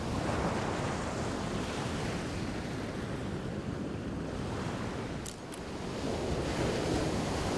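Ocean surf at a surf spot on an overcast day, a loud continuous roar of breaking waves mixed with gusty wind buffeting the microphone.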